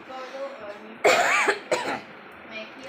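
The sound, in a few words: dry coughing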